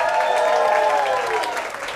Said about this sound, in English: one more round of applause for these guys.